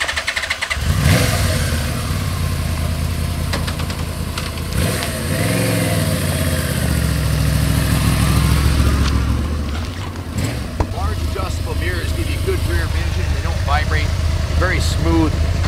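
A 1983 Yamaha Venture Royale XVZ12D motorcycle engine runs steadily and loudly up close, with a low rumbling drone that rises and falls slightly, and a voice talks over it.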